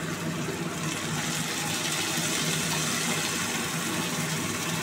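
Water is poured from a rinsed mixer jar into a cooking pot of mutton curry, making a loud, steady, close-up gushing splash that runs unbroken throughout, with no talking.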